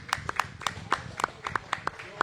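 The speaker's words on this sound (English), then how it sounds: "Let's give him a hand clap on that." Brief applause of a few people clapping for a player, about a dozen sharp, fairly even claps in quick succession, close and clear with no talk over them.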